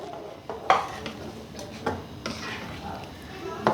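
Spoon stirring chicken chargha masala with roasted gram flour in a metal pan, giving soft scrapes and occasional sharp clinks against the pan under quiet kitchen noise.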